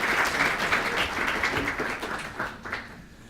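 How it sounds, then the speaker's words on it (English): An audience at a debate on evolution and God breaks into steady applause, dense clapping that holds fairly evenly for a few seconds before thinning slightly at the end. "I think a round of applause for that"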